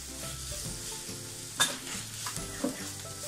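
Onions sautéing with salt in a pan for Dhaba-style paneer masala, a steady close sizzle with scraping stirs and a few sharp spoon clicks on the metal, no talking.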